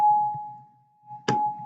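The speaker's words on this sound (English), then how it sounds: "there's the bell" A steady electronic school bell tone hums through a classroom and stops briefly before resuming. A sharp clack cuts in near the end, with faint room noise underneath.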